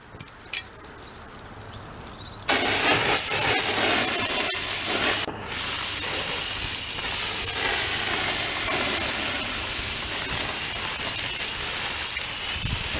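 A loud, steady hiss of water poured onto a metal ring heated to about 800 degrees starts abruptly after a couple of seconds and continues, with sizzling crackle throughout.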